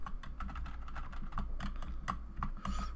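Computer keyboard keys are pressed in a steady, rapid run of clicks during Wario World gameplay, with game music and sound effects playing underneath.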